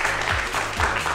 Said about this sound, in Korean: 주인공 두 분을 박수로 환영해 주시기 바랍니다.